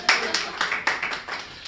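Audience at a Hindi kavi sammelan poetry recital clapping in short bursts, about seven distinct waves of hand claps close by and fairly loud.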